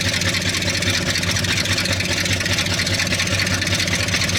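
A Ford Highboy truck engine idling with the exhaust baffles removed, giving a loud, steady, close-up rumble with an even throb and no change in speed.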